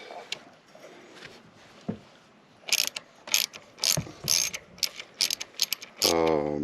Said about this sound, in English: You don't have to undo them all the way, but you want to loosen them all off